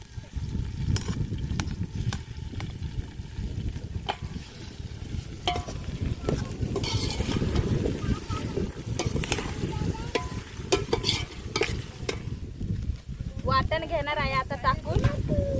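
Tomatoes sizzle as they are stirred into a mutton masala cooking outdoors by a river, a steady frying hiss with scraping and clatter throughout, wind noise present and voices talking over it.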